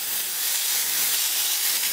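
A McCulloch MC1375 canister steam cleaner gives off a steady, close, broadband hiss of spraying steam that holds at an even level for about two seconds, with no talking.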